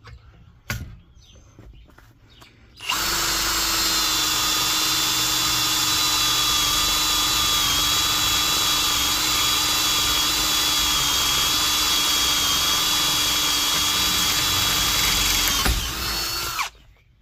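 A power drill with a rapid tap whines steadily at high speed for about fourteen seconds, tapping threads for Ford tie-down points, after a few faint knocks, then cuts off abruptly.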